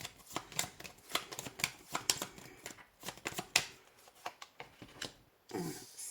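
Oracle cards are shuffled by hand during a card reading, a rapid run of soft papery riffles and slaps in irregular bursts, close and fairly quiet.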